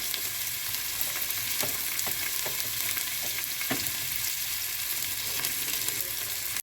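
Two onions frying in a pan for a Kerala-style beef casserole, a steady close sizzle with occasional soft stirring clicks, no talking.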